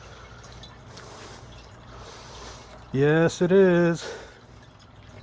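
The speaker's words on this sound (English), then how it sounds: "we're going to let it fill up and make sure that the water flows back down through" Water trickling and dripping steadily through a rebuilt fountain as it fills and flows back down, a soft continuous splash running throughout, with a brief spoken reply cutting over it.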